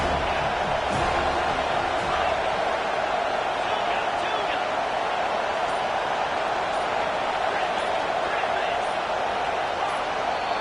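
Loud, constant roar of a college football stadium crowd at a South Carolina game, a dense wall of noise with no let-up, close and dominant.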